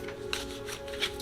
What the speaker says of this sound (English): let's shuffle and throw